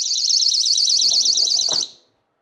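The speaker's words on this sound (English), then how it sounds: "So if I open this door up, that sets off an alarm." A loud, steady warbling electronic alarm from a home door alarm blares close by for about two seconds when the door opens, then cuts off abruptly with a soft clunk, leaving silence.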